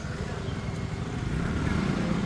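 A dense crowd of motorbikes sits in a traffic jam in Dharan, giving a continuous rumbling mass of idling and creeping engines with no clear single vehicle standing out.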